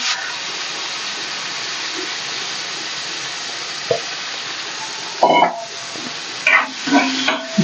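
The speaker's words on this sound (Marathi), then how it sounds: "आपण जे धुवून घेतलेत सोडे ते आपल्याला तेलामध्ये टाकायचे" Washed dried prawns frying in hot oil give a steady, close hiss and crackle, with a few sharper spatters and utensil scrapes toward the end, and no talk.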